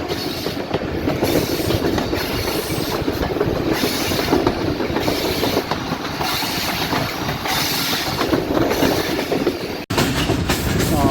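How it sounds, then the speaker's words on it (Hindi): Rehman Baba Express passenger train slowing through Golra railway station on a curve at dawn, a continuous loud rumble with clattering wheels and rattling carriages heard from on board, one sharp break near the end and no talking. "दोस्तों हमारी ट्रेन गोलरा रेलवे स्टेशन"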